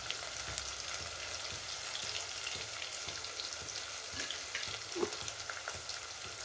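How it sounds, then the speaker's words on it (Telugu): Green chillies fry in oil in a pan for a spinach and beans curry, giving a steady close sizzle with scattered crackling pops throughout and no talking. "కొద్దిగా పచ్చిమిర్చి తక్కువ అనిపిస్తుంది ఇంకా కొన్ని వేసుకుంటున్నాను"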